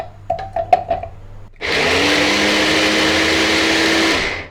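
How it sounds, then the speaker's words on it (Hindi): An electric chopper whirs loudly and steadily for about three seconds as it chops coriander, ginger and carrot, after a few short taps and knocks at the start. "अब मैं धनिया को चॉप करूँगी और इसके साथ ही अदरक को भी,"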